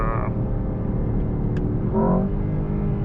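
A 2024 Mercedes-AMG S63 with a hybrid V8 pulls hard from speed, a steady low engine drone heard from inside the cabin, rising slightly near the end.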